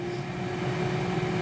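Air fryer cooking bacon and sausage, switched on and running with a steady, even hum and whirring fan, unbroken and moderately loud throughout.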